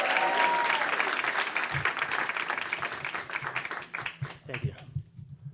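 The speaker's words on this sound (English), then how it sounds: "Let's keep that applause going." An audience applauds a storyteller with loud, dense clapping that tapers off toward the end, with a few crowd voices mixed in.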